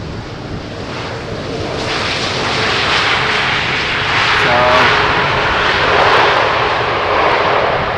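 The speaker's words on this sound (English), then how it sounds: "Meanwhile, we saw an Airbus" An EasyJet Airbus Neo arriving from Geneva roars at Amsterdam Schiphol Airport, its loud broadband engine noise building and holding steady throughout, close and continuous.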